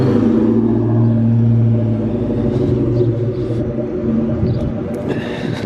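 A 1996 Ford Mustang Cobra engine with a Vortech supercharger rumbles low and steady at close range, a deep continuous drone with slight shifts in pitch and a brief rattle near the end.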